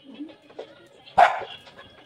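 Household dogs waiting to be fed in a provincial home at night, giving a single sharp bark that stands out over soft background noise.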